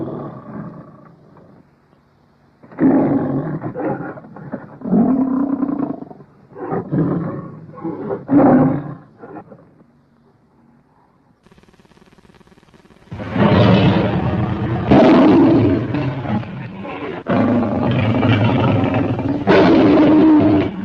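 Lion roars from a sound-era film, several loud, drawn-out growling bursts separated by brief pauses, then a longer sustained run of heavy roaring near the end, with no talk over them.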